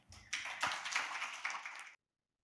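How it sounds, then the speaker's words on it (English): Conference audience applauding a speaker: a burst of many hands clapping, moderately distant in a hall, rising quickly then sustained before stopping abruptly. "Please join us in giving her a warm round of applause."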